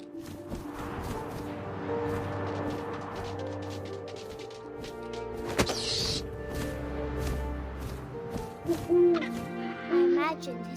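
Owl hoots from the video game What Remains of Edith Finch, a few soft calls over a steady windy outdoor ambience with low rumble, a brief sharp crack midway and louder hoots near the end.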